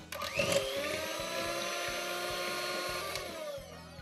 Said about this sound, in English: you just whisk it basically for a minute or so till it goes really foamy